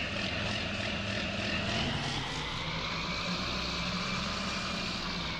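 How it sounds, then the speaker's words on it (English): A loud, constant tractor engine roar in a farming video game, with a heavy low rumble and slowly shifting pitch, runs steadily throughout, close and unbroken. "I must have a big engine in this. So loud."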